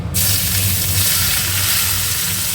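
Chopped onion, garlic and green chili hit hot oil with a sudden loud, steady sizzle that continues evenly and close up, no talking.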